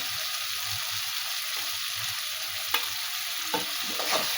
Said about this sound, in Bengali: আমি কষিয়ে নেবো আগে দেখো মশলা থেকে তেল বেরিয়ে গেছে